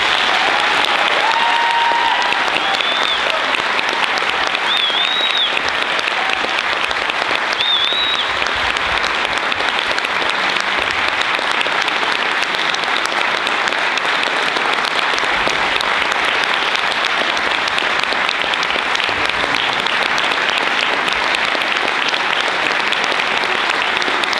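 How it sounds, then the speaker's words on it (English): Sustained, steady audience applause fills a hall after a Christmas show performance, loud and even throughout with a few faint whistles near the start. "Can you give them another round of applause?"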